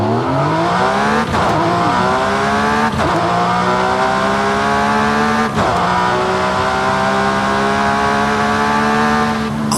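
A racing car engine in the Forza Horizon 5 video game revs loudly from the cockpit view and climbs through the gears, each rising whine cut by a brief shift, with a strong intake roar throughout.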